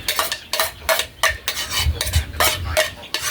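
Grated kalabasa squash and carrots get mixed in a bowl with a utensil, a rhythmic run of wet scraping strokes and light clinks, close and steady with no talking.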